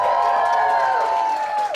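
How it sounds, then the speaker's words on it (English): An audience at an evening talk event in Ubud, Bali cheers and whoops in a loud, dense burst that carries evenly for a couple of seconds and trails off at the end. "I want everyone to cheer one more time."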